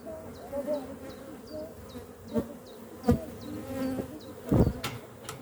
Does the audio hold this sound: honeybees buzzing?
yes